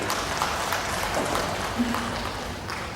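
An audience at the KDCA 2017 Kadazan and Dusun popular song awards ceremony claps in a steady, dense wash of applause lasting the full three seconds.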